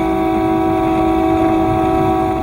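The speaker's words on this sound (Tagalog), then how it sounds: "bumusina siya bilang babala" A motorcycle horn blares continuously as a warning to passenger jeeps ahead on a city road, one loud, sustained, steady honk with no break.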